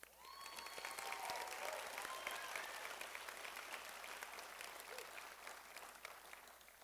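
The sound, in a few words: audience applause for the graduating class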